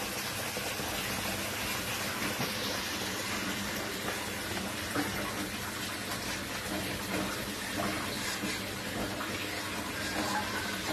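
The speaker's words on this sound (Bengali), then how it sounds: "এবার এতে দিয়ে দেবো জল।" Water pours into a Bengali katla fish tel jhal curry in a pan, a loud, continuous gushing splash lasting the whole stretch with no pause and no voices.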